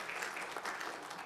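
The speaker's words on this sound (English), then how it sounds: "What can our hands do to say thank you? Clap." Congregation applauding during a worship service, a steady wash of many hands clapping at moderate distance with no pauses.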